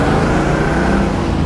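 A 1976 Pontiac Trans Am 455 engine runs steadily nearby, a loud continuous idling rumble with no talking over it.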